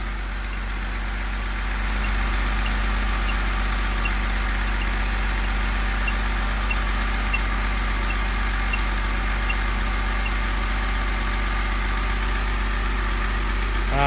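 A BMW 328i E90 engine fitted with a 3-stage intake idles steadily, a continuous even hum with a constant low drone and faint mechanical ticking, close by and unbroken, no talking.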